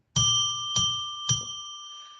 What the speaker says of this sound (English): ring a bell 3 times to declare sacred space